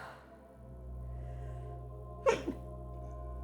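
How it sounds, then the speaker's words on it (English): A single sharp sneeze from one person sits close to the microphone, followed by a smaller second burst, over a steady low electrical hum in an indoor livestream setting. "Oh, I'm gonna sneeze."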